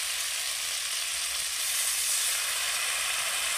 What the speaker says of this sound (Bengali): এবার আমি সব মশলাগুলো ভালো করে কষিয়ে নেব। মশলার মধ্যে সামান্য একটু জল দিয়ে দেব